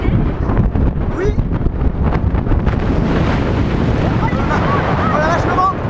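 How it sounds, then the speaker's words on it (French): Strong wind buffets the microphone during a front-row roller coaster ride at Port Aventura, a loud continuous low roar lasting the whole stretch, with voices briefly audible beneath it. "Oh la vache, le vent."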